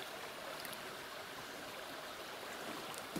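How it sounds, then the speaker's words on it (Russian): Water from a pond runs steadily beneath a road through a pipe, giving a faint, even rush with no break and no voices. "Вот вода идет подо мною как раз, под этой дорогой."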